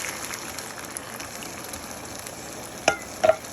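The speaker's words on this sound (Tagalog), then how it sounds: "And then, continue stir." Chicken curry with potatoes simmering and being stirred in a pot, a steady low sizzle with a couple of brief scraping clinks near the end, no talking.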